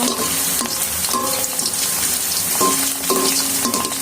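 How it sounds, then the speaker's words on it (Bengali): Potato slices frying in hot oil for potato chips, a dense, loud, continuous crackling sizzle heard up close, with a few faint tonal clinks in the background. "এখন আমরা আমাদের আলুগুলোকে একে একে ভেজে নিব।"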